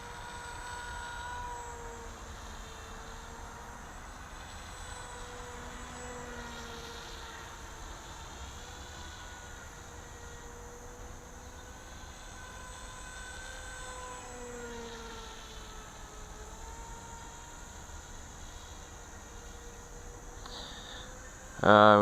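An AXN radio-controlled foam plane flies under throttle, its small electric motor giving a thin, steady drone that rises and falls gently as it passes at a distance, with a loud bump at the end.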